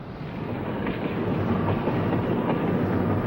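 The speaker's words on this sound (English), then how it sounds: "This is Train 17, a local from Concord, nearing the Oakland stop at the 40th and Shafter station." A Sacramento Northern local train from Concord approaches the 40th and Shafter stop in Oakland, giving a steady broad rumble that swells slightly as it draws closer, with no voices.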